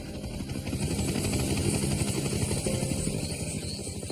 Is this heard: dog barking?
no